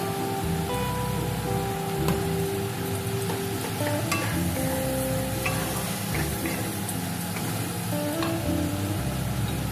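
Spice mix with ginger paste frying in a pan for a Bengali vegetarian dhokar dalna, a steady loud sizzle with occasional light stirring clicks throughout.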